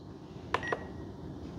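A radio transmitter's countdown timer gives two short, close electronic beeps in quick succession, then falls quiet against faint room noise.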